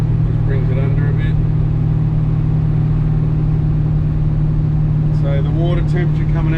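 A Holden HT Monaro cruising at 80 km/h with its engine at about 2,500 rpm while warming up gives a steady, even drone throughout, with someone talking over it at the start and near the end.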